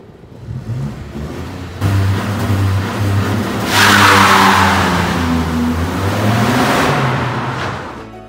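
A 2018 Ford Focus engine revs up with a rising growl, holds a loud high roar, then eases back down, close by with no talking.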